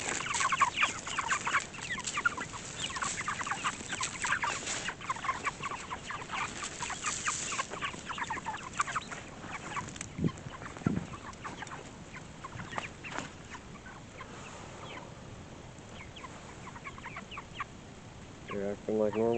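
Cornish cross meat chickens cluck and chirp steadily as a flock, close and busy, with a few louder squawks and occasional scratching over about twenty seconds.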